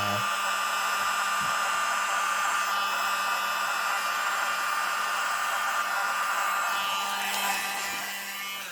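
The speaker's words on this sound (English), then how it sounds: "I like that hairdryer, man" A hair dryer blows steadily with a constant whirring hum and airy hiss, running continuously close by, used on acrylic pour paint.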